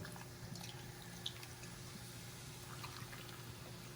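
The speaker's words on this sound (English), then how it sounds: "Just pour that right in there, just like that." Canada Dry ginger ale is poured over pork in a kitchen, a quiet steady liquid stream with faint splashes and trickles, close but low in level, with no talk.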